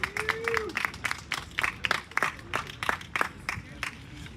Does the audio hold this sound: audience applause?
yes